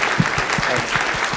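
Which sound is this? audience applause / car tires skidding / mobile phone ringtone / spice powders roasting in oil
audience applause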